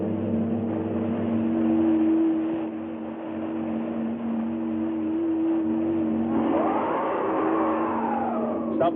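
Steady mid-pitched hum of a car engine, driving in a 1965 science-fiction film, holding a constant drone before a rising whine near the end, with no voices.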